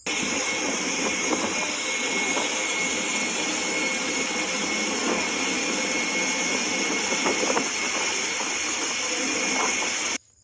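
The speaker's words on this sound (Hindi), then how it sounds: "पानी के ऊपर ऐसा लग रहा है कि हवाई जहाज़ चल रहा है" A steady, loud aircraft engine roar from an airplane moving through floodwater in Dubai drones on without a break for about ten seconds, then cuts off abruptly. No voices.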